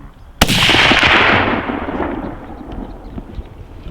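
A rifle shot rings out during a whitetail deer hunt in Kansas: one sharp, loud crack at close range, followed by a long rumbling echo that slowly fades over a few seconds.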